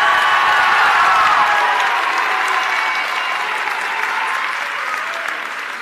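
Sustained applause from a large crowd at a high school graduation ceremony, dense clapping that holds loud and gradually eases over several seconds.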